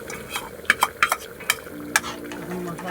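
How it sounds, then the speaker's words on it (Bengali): Spices frying with fried onions in a pan for a duck curry, a spoon stirring with a series of distinct scraping clicks over a soft, steady sizzle. "এখন মশলাটা আমি সুন্দর করে ভাজছিলাম।"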